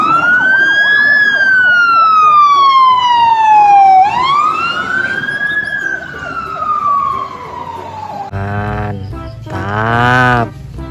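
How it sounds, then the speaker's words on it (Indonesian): A toy fire truck blares an electronic siren that sweeps up and down in long wails, loud and close, then switches to a shorter warbling electronic tone near the end. "yang ini ada mobil pemadam kebakaran"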